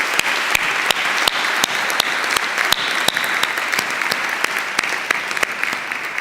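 An audience at a university Founders Day ceremony applauds award winners, a dense steady clapping from a large crowd with sharp individual claps standing out, sustained throughout.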